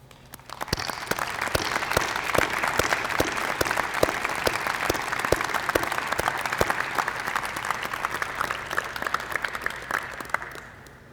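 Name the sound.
audience applause for first-generation students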